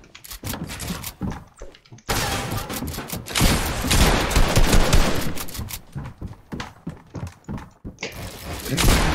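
Rapid, dense gunfire from a shooter video game rattles through nearly the whole stretch in loud overlapping bursts, with a short lull before a fresh volley and no talking over it.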